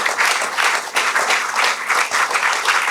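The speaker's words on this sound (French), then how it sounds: "On peut applaudir la sortie de scène de Vincent Franière" Dense, steady audience applause at the Valaistars 2025 event as a guest leaves the stage, filling the room with close, continuous clapping throughout.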